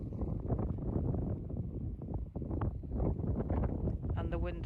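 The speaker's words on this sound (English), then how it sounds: "but it is still quite windy" Wind gusting on the coast, buffeting the microphone in a heavy continuous rumble with rustling, loud and close throughout.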